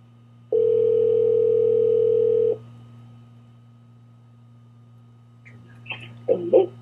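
A single steady telephone ring tone sounds for about two seconds, followed by a pause and then a voice starting to speak.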